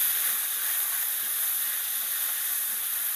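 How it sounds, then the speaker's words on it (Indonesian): Garlic is sautéed in a pan for a minced pork and tofu soup, producing a continuous, even sizzling hiss at close range with no talking. "Ini kita masukkan aja bawang putih. Kita tumis."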